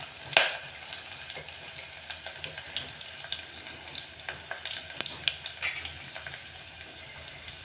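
Cumin seeds frying in hot oil in a home kitchen pan, a steady soft sizzle with small crackling pops scattered throughout, fairly quiet and close, with no voices.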